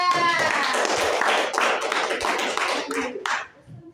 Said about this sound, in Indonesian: tepuk tangan untuk kelompok 3.